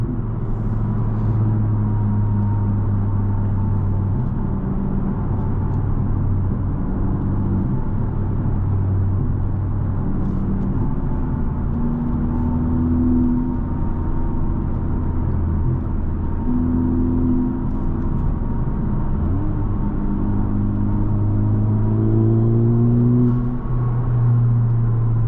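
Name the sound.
Honda Civic Type R engine while driving, rev match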